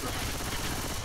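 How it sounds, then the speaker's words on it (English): A dense, continuous burst of automatic gunfire aimed at zombies in Left 4 Dead 2, loud and unbroken for about a second, with voices blended in. "We're shooting some damn zombies."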